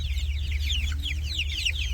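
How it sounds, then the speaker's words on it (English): Chickens cluck in a pen, several birds giving rapid overlapping clucks above a low steady hum throughout. "Lots of chickens in each pen."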